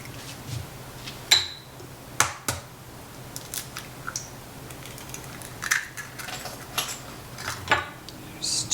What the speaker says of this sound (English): Then I'm gonna add in 3 eggs.